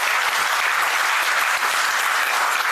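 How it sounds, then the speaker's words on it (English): Audience at an official event on nationwide EV charging infrastructure applauds as a chief guest, a Union minister, is invited onto the dais; dense, sustained clapping from many hands, steady and loud throughout. "With a big round of applause, may we invite him onto the dais."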